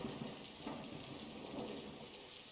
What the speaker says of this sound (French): Un éclair?